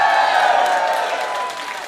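Audience applause and cheering at a stand-up comedy gig, a dense, steady wash of clapping that fades slightly over a couple of seconds, with no voice on top.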